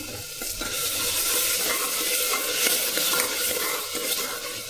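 Steady sizzling of a thick tomato puree frying in a pan, with faint stirring scrapes throughout and no talking.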